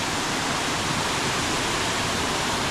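A rushing waterfall inside a show cave near a covered bridge, giving a steady, dense, broadband roar that stays loud and even throughout with no pauses or voices.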